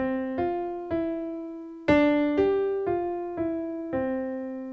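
A simple right-hand piano melody of single notes, about eight of them, played at a steady, unhurried pace, each note ringing and decaying before the next.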